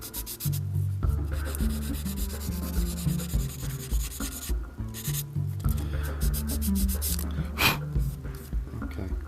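Sanding stick rubbed over a small plastic Gundam model part, a close, soft scratchy rubbing in repeated back-and-forth strokes with short pauses between passes, over a low background hum.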